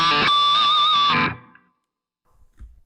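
A Gibson ES345 played through a JHS Sweet Tea drive pedal on its Angry Charlie side into a Fender 68 Custom Pro-Reverb rings out as one loud, gritty, overdriven chord, held about a second before it cuts off to silence.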